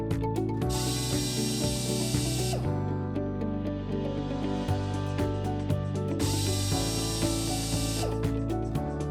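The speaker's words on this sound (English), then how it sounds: "using a drill, drill 2 pilot holes on the marked locations" A power drill whirs in two sustained bursts, drilling two pilot holes while installing a wood safety gate, spinning up and winding down, close by, with some mechanical clatter between them.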